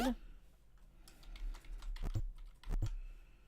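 Computer keyboard keys pressed while playing a small indie game-jam title, scattered clicks then clustered taps near the end, close and fairly quiet, with no talk.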